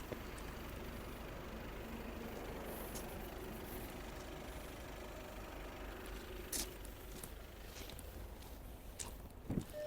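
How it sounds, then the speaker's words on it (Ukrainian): A 2019 Volkswagen Passat Alltrack 4Motion engine idling with a steady low drone throughout, quiet and continuous, with a few brief clicks and knocks near the end. "Гляньте, як працює двигун."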